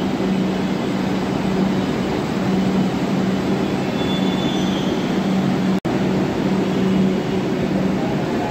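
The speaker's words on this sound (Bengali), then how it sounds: "দেখতে দেখতে আমাদের ট্রেন চলে এলো" Kolkata Metro Orange Line train pulling into the station, a steady loud rumble of wheels and motors with a sustained hum and faint high wheel squeal, continuous throughout with one brief cut near the end.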